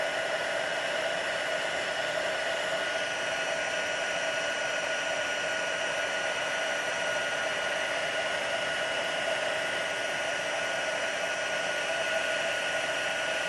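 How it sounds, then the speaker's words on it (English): A heat embossing tool blows hot air over a watercolor sunflower card, a loud, steady, unbroken whoosh held close throughout. "The heat tool does get very hot"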